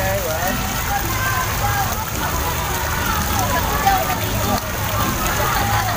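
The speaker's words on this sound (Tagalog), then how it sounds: "Meron tayong fountain dito." Water pours and splashes steadily from an outdoor fountain, a constant rushing spatter that lasts throughout and stays fairly loud.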